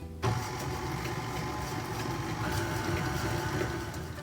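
An electric mixer starts abruptly and runs steadily on medium speed through cookie dough for confetti snickerdoodles, a loud, continuous close motor whir with a faint rattling grind.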